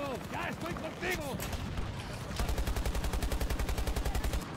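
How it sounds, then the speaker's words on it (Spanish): Random gunfire in the video game Battlefield 2042: a few scattered shots at first, then a long, rapid, evenly spaced automatic burst that is loud and close. "Disparos random."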